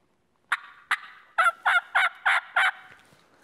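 A hunter's turkey hen call to a roosting tom yelps in a series of about seven sharp, nasal calls, spaced evenly and growing slightly faster, loud and close with no other sounds.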